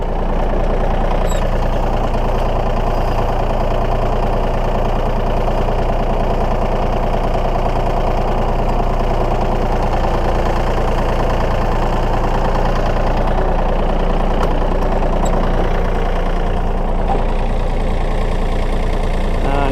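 A tractor engine runs steadily at a loud, low idle while moving a heavy travel trailer, its rumbling drone continuous and close throughout with no talking.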